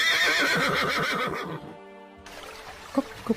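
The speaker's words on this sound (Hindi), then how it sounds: "तभी राजा का घोड़ा आवाज करता है।" A horse in a forest by a river gives a loud, close whinny with a shaky, pulsing rise and fall, then a pause followed by a couple of soft hoof clops.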